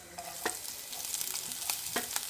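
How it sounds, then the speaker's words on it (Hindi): Mustard seeds crackling in hot oil with green chili, a steady close sizzle with scattered pops and faint stirring scrapes, with no talking. "इन दोनों चीजों को हमने थोड़ा सा क्रैकल कर लेना है।"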